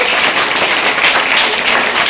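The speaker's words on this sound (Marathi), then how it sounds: "तर या अभिनेत्रीचं एकदा टाळ्या वाजवून आपण कौतुक करूया" An audience applauds an actress at a school function in Shahunagar Godoli, Satara: steady, dense clapping from many hands that holds evenly for the whole stretch.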